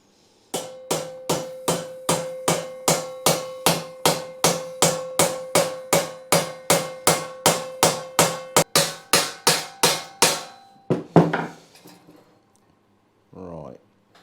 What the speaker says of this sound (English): with a wooden mallet, you know, try and use the normal hammer without bruising the hell out of it